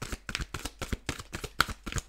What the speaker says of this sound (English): if you don't want to see this shuffle stuff